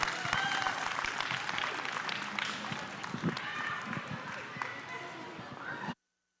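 An audience applauds at a county fair cattle show, dense continuous clapping mixed with crowd noise and some voices, loud and steady, before cutting off abruptly.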